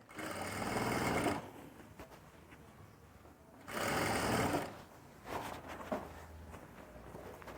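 A home sewing machine stitches a winter dress in two loud bursts, about a second and a half each, separated by a pause with lighter handling noises and short stops and starts.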